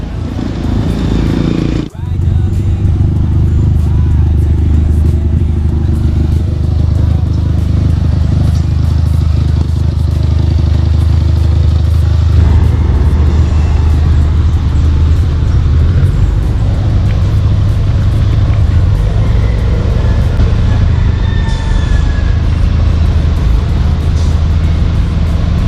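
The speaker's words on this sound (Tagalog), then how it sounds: "San Mateo Sanitary Landfill Development Corporation, yung dump truck na yan mga boss." A San Mateo Sanitary Landfill dump truck passes on a road, its loud low engine rumble and clatter filling the scene with continuous traffic noise, near and steady throughout.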